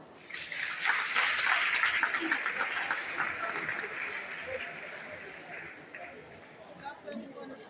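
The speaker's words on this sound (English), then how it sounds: "Let us all welcome her with a resounding applause" An audience at a graduation ceremony applauds a closing speaker, a dense, fairly distant wash of clapping that swells and then slowly fades.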